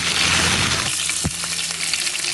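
Potatoes fry in butter and ghee in a pan, a steady loud sizzle and crackle close up, with a brief knock of a utensil partway through.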